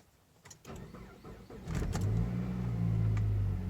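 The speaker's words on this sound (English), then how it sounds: "First cold start" A Saab 9-5 engine with a straight-piped exhaust cranks briefly on a cold start at 22 degrees, then catches and settles into a loud, steady idle, heard up close with a rough low rumble.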